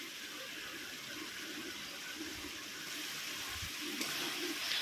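Hot water goes into frying masala for a potol chingri curry, a soft steady gush and low sizzle that stays faint and even throughout.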